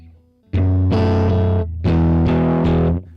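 Distorted electric guitar played through a pawn shop combo amp plug-in, edgy and saturated, with a few loud sustained chords struck in sequence and ringing out alone.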